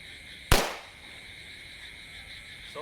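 A small firecracker bursts outdoors with one sharp, loud bang that fades quickly into a quiet background of faint insect chirping.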